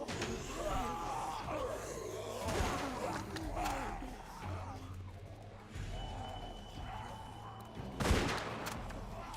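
Rifle shots in The Walking Dead video game, fired as several loud, sharp cracks scattered through the stretch over low game ambience and a background score, with one especially strong blast near the end.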